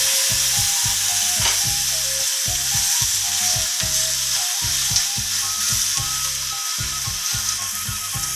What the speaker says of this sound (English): Just here, we're gonna grill steak.